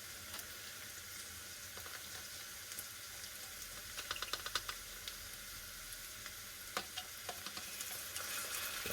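Chopped garlic sizzles and fries steadily in a pot with a low crackling hiss, joined by a few scraping stir clicks partway through, with no talking.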